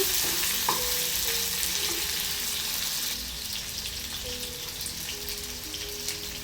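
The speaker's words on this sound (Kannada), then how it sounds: "ಈರುಳ್ಳಿ ಹಾಕಿದ ಮೇಲೆ ಚೆನ್ನಾಗಿ ಫ್ರೈ ಮಾಡ್ಕೊಳ್ಳೋಣ ಇದನ್ನು ಈ ಥರ ಚೆನ್ನಾಗಿ ಫ್ರೈ ಆಗಬೇಕು" Chopped onion fries in a pan for ivy gourd sabji, a steady, close sizzling hiss that eases slightly halfway through, with a few soft stirring knocks and no talking.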